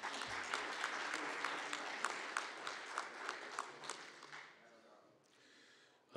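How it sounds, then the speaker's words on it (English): An audience claps at a graduation commencement ceremony, a sustained wash of many hands heard at a distance that fades out after about five seconds into quiet room tone. "That merits a second applause."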